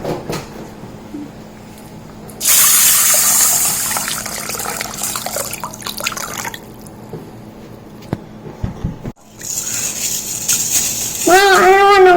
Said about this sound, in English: We have to wash it with water and soak it with water.